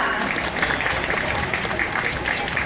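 Thick, steady clapping from an outdoor crowd at a flower-laying memorial gathering marking 6 October 1976, continuous and loud with a faint voice mixed in.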